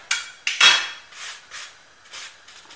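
Mkhamer flatbread gets turned over in a pan, giving a few sharp metallic clinks and taps followed by softer scraping sounds, close and fairly quiet, with no voices.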